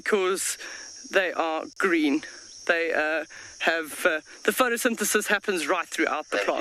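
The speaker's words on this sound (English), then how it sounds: "I can just hear the cicadas calling this morning." Cicadas in the South African bush at morning keep up a constant high buzzing drone in the background beneath continuous nearby talk.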